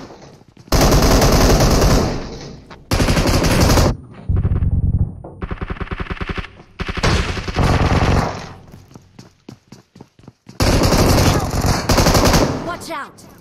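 Bursts of automatic gunfire in the BGMI mobile battle royale game, loud rapid volleys broken by short pauses, with some single shots between them and a voice talking among the shots.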